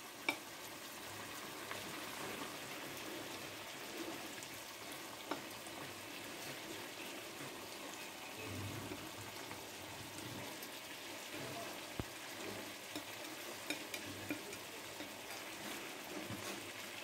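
Chicken cooking in a pan with fried eggplant added, giving a steady, close sizzle and crackle of frying with small stirring scrapes and pops throughout.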